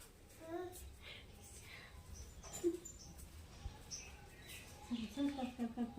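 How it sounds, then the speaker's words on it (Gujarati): Sparrows chirp in short bright bursts near a backyard feeding spot where a water pot hangs, with a few calls early and a quicker cluster toward the end. People talk softly in the background. "ચકલી છે"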